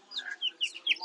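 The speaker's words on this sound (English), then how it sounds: "Little dwarf piggy chickens." Tiny dwarf chicks on a farm give a run of soft, high clucks and peeps in quick, uneven bursts, close by and with no one talking.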